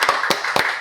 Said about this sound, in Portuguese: Então tá, uma salva de palmas